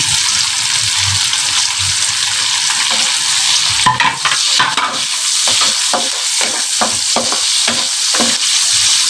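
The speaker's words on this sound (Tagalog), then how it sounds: "haluin lang po natin" Ginataang langka with pork and chilies stirred in a pan, a loud close sizzle and bubbling with repeated scraping strokes of a utensil, growing rhythmic in the second half.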